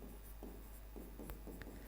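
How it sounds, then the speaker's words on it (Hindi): Chalk or a marker scratches faintly on a classroom board as a chemistry question is written, short strokes and taps over a low steady hum with no talking. "जैसे देखो एक क्वेश्चन और लिखते हैं"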